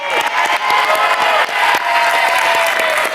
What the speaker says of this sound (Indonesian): tepuk tangan untuk posisi ini